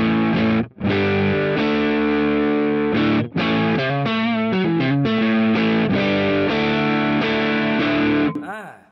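An electric guitar runs through a Mooer Two Stones distortion pedal with cab simulation on, playing loud, sustained distorted chords and bends with a couple of brief pauses, ending in a short fade.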